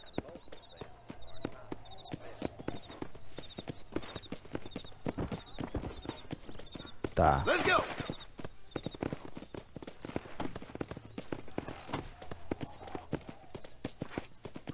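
Horse hooves clip-clop at a steady walking rhythm through most of the Red Dead Redemption ride, close and clear, with a brief louder rustling burst midway and a short spoken line over it.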